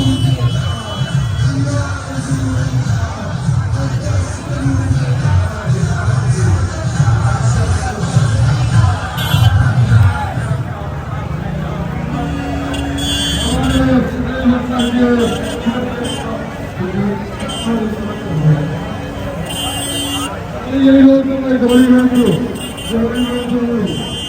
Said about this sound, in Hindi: भीड़ कितनी है भाइयों ये देखिए आप।